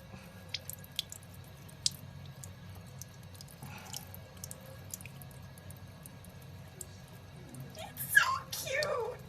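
Water drips from a sink tap in sparse, sharp ticks over a quiet background, followed near the end by a brief splashy gush.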